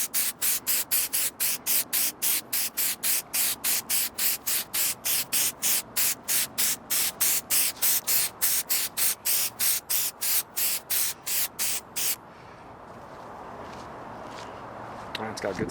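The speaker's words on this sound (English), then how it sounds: "when you spray across, release. Spray across, release. It's just like a spray paint can." Aerosol can spraying a protective coating onto a car headlight in short, evenly spaced bursts, about two per second, close and loud, then stopping as quieter background noise takes over.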